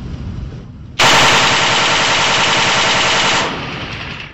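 YAK remote-controlled surveillance and weapon platform firing its machine gun: a sudden, very loud sustained burst of rapid automatic fire lasting over two seconds, then cut off, with no speech.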